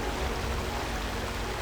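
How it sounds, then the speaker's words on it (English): Steady broadband rush of a waterfall pouring as a veil of water past a window, a continuous even roar with low rumble and no voices. "A veil of water! It's the waterfall!"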